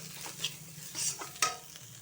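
Spice paste of chilli, ground cumin, turmeric and coriander powder is stir-fried in a pan, faint soft sizzling broken by a few brief spoon scrapes and clinks, close by, no talking.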